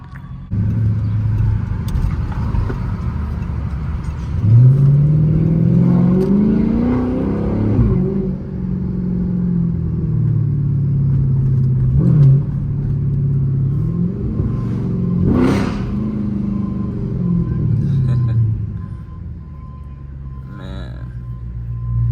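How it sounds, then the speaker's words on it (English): A straight-piped Chrysler 300 SRT 392 revs hard while driving through downtown Richmond, its loud, deep exhaust surging and falling in repeated pulls, with a voice talking over the engine noise. "Crazy what a straight pipe can do."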